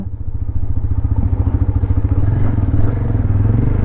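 A 2024 TVS Apache RTR 160 4V motorcycle with a BS6 engine, ridden in urban mode, gives a close, steady, thumping single-cylinder exhaust beat that rises slightly in pitch as it moves along, with faint wind noise over it.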